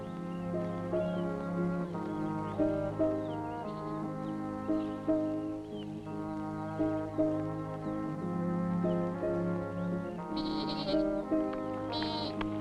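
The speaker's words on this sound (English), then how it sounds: "My baby goat is dying of hunger." A hungry baby goat bleats over and over in a 1964 Robinson Crusoe adventure series, with wavering, high calls close by and almost unbroken for about thirteen seconds.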